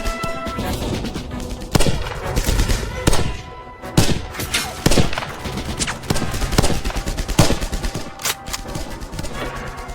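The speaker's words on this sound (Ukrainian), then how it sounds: "Ніколи не бачив, як стріляє справжній чоловік покидько!" Loud, close bursts of video game gunfire crack repeatedly in irregular volleys, with sharp individual shots and thuds over a noisy background.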